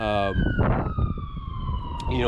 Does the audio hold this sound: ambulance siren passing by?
yes